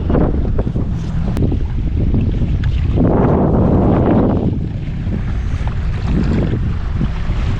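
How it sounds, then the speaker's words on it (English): Steady wind roars across an open lake around a boat during bass fishing among hydrilla patches, with gusts and buffeting on the microphone and faint water lapping against the hull throughout. "Fishing in the wind is fun"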